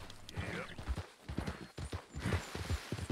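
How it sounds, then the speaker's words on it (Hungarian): Horse hooves clip-clop in Red Dead Redemption 2, a steady rhythmic run of close, distinct hoof beats on the ground, with a brief pause partway through and faint background ambience. "Ez egy gyönyörű ez a ló."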